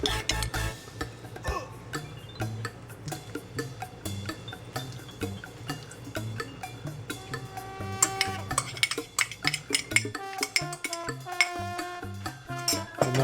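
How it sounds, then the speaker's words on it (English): Utensils tossing a warm red cabbage and apple salad with dressing, a run of light clinks and taps, sparse at first and then quicker and busier, close under soft background music. "Mix that a little bit."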